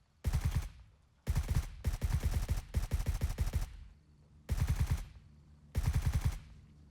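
Gunfire in the shooter game Gray Zone Warfare, five sharp bursts of rapid automatic shots separated by short pauses, loud and close with brief echoing tails and no talk.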